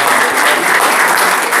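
Loud, dense applause from a crowd, continuous and close throughout the short stretch.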